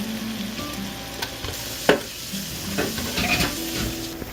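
Flour cooking in a pot at the start of a wild mushroom roux gives a steady soft sizzle close up, with occasional scrapes and clinks of a utensil stirring against the pot.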